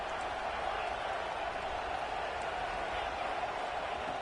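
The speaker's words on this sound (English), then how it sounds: "This crowd is trying to inspire this defense to make a big red zone stop." Steady, dense roar of a packed stadium crowd in the college football game College Football 26, rising as the home fans urge their defense toward a red zone stop; a continuous wash of cheering with no breaks.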